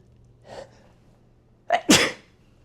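A single sharp sneeze bursts out after a soft intake of breath, close and loud, in an otherwise quiet room.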